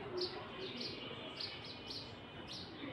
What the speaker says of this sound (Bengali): চড়ুই পাখি ডাকতেছে